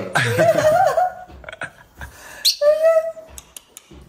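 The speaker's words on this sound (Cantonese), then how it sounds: "隔離台嗰啲小鸚鵡啊，幾乖啊，好中意我啊，跳過嚟" Small pet parrots at a neighbouring restaurant table give a few close, bright whistling chirps and squawks, with some soft laughter nearby.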